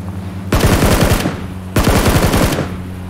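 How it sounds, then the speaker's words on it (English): Hip-fired automatic gunfire in the PUBG battle royale game, two loud close bursts of rapid shots each lasting under a second, separated by a short pause. "I can't shoot properly. My mouse doesn't allow hip firing."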